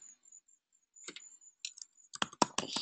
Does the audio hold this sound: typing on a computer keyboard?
yes